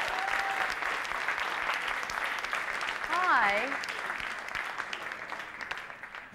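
An audience applauds someone at a 1999 press conference in Sydney: a dense, steady wash of clapping fills the room while a voice briefly speaks over it.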